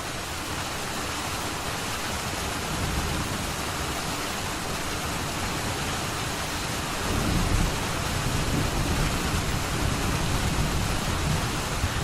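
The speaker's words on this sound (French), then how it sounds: "j'entends ce grondement sourd de tonnerre" Heavy, steady rain pours down while a deep, continuous rumble of thunder swells in the background, growing louder partway through.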